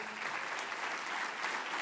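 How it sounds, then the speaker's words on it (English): Audience applause fills a convocation hall, steady dense clapping from many hands throughout, fairly loud and without pause. "Can we have a huge round of applause"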